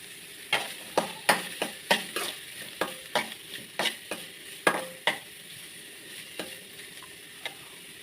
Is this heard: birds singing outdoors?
no